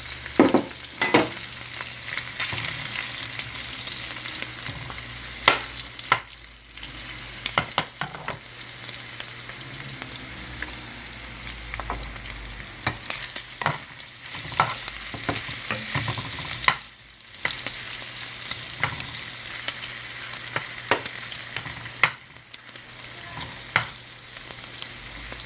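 Chicken gizzards fry steadily in hot oil for an Asian-style dish, a dense, continuous sizzle with crackles and sharp pops scattered throughout, close and fairly loud, with no voices.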